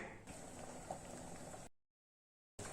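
Soft bubbling of curry simmering in a pot, close and quiet, cutting briefly to silence before resuming.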